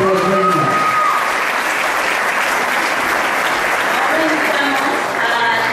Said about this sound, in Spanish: Un fuerte aplauso para nuestra reina